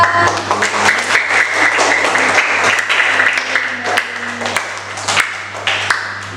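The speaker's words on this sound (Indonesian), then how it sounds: "Tepuk tangan dong." A classroom of fifth-grade primary school pupils claps steadily together, a dense, sustained burst of applause close by that carries through the whole stretch, with some faint voices mixed underneath.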